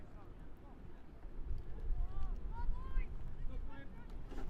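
Strong 25 mph wind gusts buffet the microphone at an outdoor youth soccer match, a low rumbling roar that swells midway, with faint distant shouts and voices from the field.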